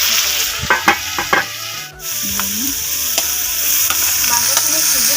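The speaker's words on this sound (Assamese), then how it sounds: "মাংসটো অকণমান ফ্ৰাই কৰি লওঁ" Meat frying in a pan, with a steady close sizzle and several sharp scraping stir strokes against the pan, a brief dip in the hiss near the middle.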